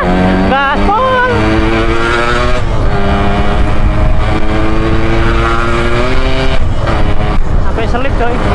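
A motorcycle engine runs loud and close at full throttle, its pitch rising and falling as it revs hard on the road. Someone talks over the engine noise.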